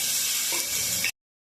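Onions sizzle as they are sautéed in a pan for a Kerala-style chicken perattu, a bright steady frying crackle with a faint stir, cutting off abruptly after about a second.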